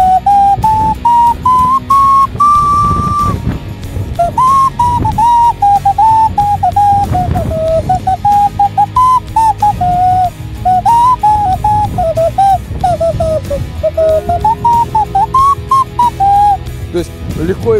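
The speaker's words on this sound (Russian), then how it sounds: "Как красиво и мелодично звучит глиняная свистулька у мастера" A craftsman plays a clay whistle at an Easter fair, a loud, clear melody of steady sustained tones that rise and fall in short phrases, carried on for a long stretch close up over faint background crowd noise.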